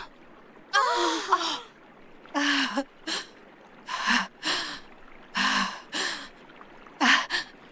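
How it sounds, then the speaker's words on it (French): An anime character pants hard, out of breath, in a series of loud, raspy gasping inhales and exhales spaced about a second apart. "elle est essoufflée"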